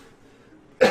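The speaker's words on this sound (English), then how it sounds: "I just keep coughing." A person coughs once, a sharp close burst near the end after a quiet stretch.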